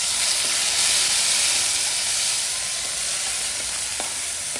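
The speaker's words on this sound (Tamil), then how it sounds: "அதே எண்ணெயில் இப்போ கிரேவி இருக்குங்களா, அதை போட்டுக்கலாம்." Ground masala gravy for paneer masala sizzles and fries steadily in hot oil, a continuous loud crackling hiss with faint stirring clicks, and no talking.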